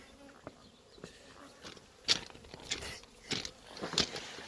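Honey bees buzz around open hive boxes, a faint, close hum with brief louder passes as individual bees fly near, alongside light handling noises.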